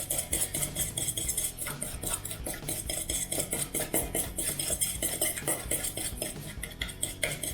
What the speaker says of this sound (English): It's almost a little bit more like whisking. I mean, technically it is whisking.